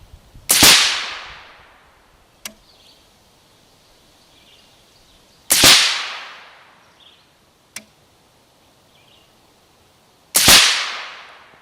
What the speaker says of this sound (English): a 5-shot group with the Torrent Suppressors F2HD